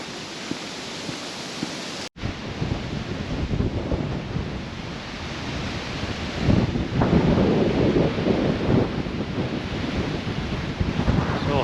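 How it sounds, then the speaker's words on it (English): Strong wind buffets the microphone on open moorland the day after a storm, a steady loud roaring rumble with gusts swelling and easing throughout, no voices. "Still very windy."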